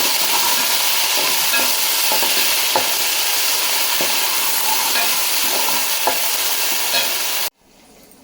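Ginger garlic paste fries steadily in a pan for a chicken curry, a dense continuous sizzle with faint stirring scrapes, loud and close, cutting off abruptly near the end.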